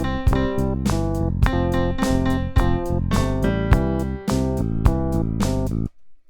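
Unquantized piano melody over Rhodes electric piano chords, with bass and drums: loose, slightly uneven note attacks in a steady groove, played loud and clear throughout before stopping abruptly near the end.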